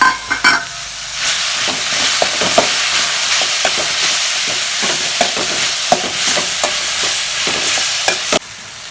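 Large tomatoes sizzle loudly as they are sautéed in a pan for Tamil-style duck gravy, a dense frying hiss punctuated by frequent spoon clacks and scrapes close up, fading sharply at the end, with no speech.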